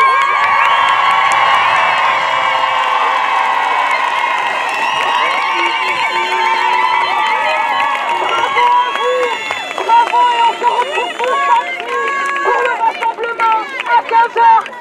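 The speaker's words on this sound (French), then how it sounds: "Vous pouvez vous applaudir." A large crowd at a pro-Palestine street rally in Lyon cheers and shouts loudly in a sustained roar, breaking into rhythmic bursts of chanting voices near the end, with only faint clapping underneath.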